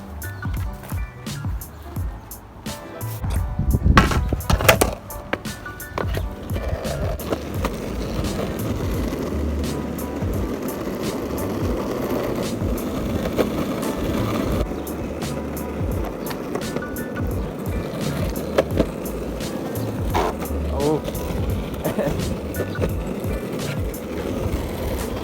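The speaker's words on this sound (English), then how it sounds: "let's go out for a quick little cruise on the longboards" Longboard wheels rolling steadily over pavement on a casual cruise, a continuous gritty rumble that swells after a few seconds and holds, with occasional clacks and bumps from the board.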